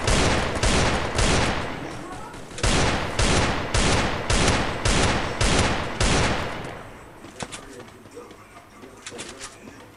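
Maxed-out EVO FAMAS rifle in a video game firing loud, close, rapid bursts: about a dozen evenly spaced volleys, then scattered fainter shots trailing off.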